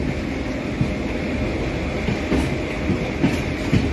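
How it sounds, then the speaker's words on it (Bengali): The Gangasagar Express pulls slowly out of Sealdah station in rain, a steady loud rumble with rhythmic wheel clacks over the rail joints. "একটা ট্রেন আস্তে আস্তে শিয়ালদা ছেড়ে বেরিয়ে চলে যাচ্ছে।"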